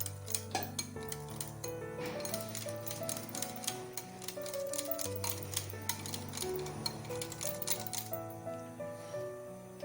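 Rapid, irregular clinking of a utensil against a bowl as whole moong bean kadhi batter is mixed to break up lumps, with soft background music throughout.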